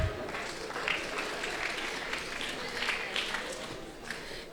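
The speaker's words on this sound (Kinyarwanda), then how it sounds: "Amashyi menshi kuri Babujo." An audience at a comedy show claps steadily, a dense continuous patter of many hands at moderate distance, with no talking over it.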